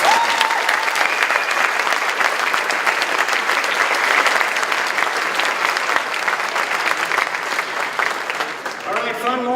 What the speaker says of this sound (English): How about another great round of applause for the team from Europa Park?